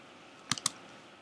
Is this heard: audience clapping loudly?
no